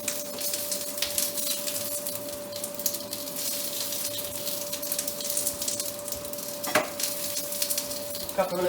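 Salmon sizzles steadily in a pan of butter and oil, a continuous close frying hiss running throughout, with a brief clatter near the end.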